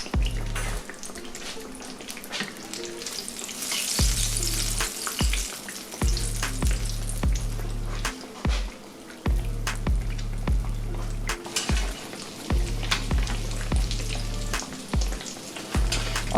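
Eggplant frying in hot grease, a loud continuous crackling sizzle close up with intermittent pops and clatters throughout.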